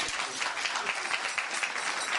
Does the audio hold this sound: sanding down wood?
no